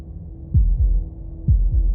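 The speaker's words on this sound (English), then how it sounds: "That was the sound of a heartbeat" Heartbeat sound effect from the video game Slay the Princess: two deep lub-dub thumps, close and loud, spaced about a second apart over a low hum.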